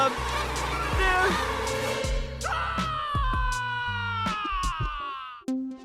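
Mosquitoes from the 2002 animated film Lilo & Stitch buzz in a steady high whine for several seconds, layered with cartoon sound effects and short sharp hits, then break off abruptly near the end.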